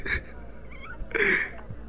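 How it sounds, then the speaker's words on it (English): A cat gives two short, nasal meows, close by, separated by a brief pause, with faint background noise between them. "Cats!"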